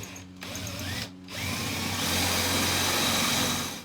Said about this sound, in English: Okay, everything's drilled.